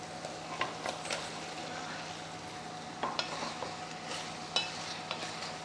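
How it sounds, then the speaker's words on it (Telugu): Mushrooms dropped into a pan of tomato curry and stirred, giving soft scattered scrapes and light clinks over a faint steady sizzle, with a low background hum. "ఇప్పుడు వేస్తున్నాను నేను మష్రూమ్స్."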